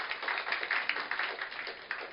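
A church congregation claps together during a Sunday Thanksgiving worship service, a dense, steady patter of many hands that stays fairly soft and distant throughout, with no voices over it.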